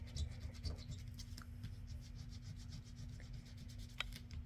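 An eraser rubbed across paper to lift fresh glue residue, quiet, rapid scratchy back-and-forth strokes repeating steadily, close up and alone with no talk.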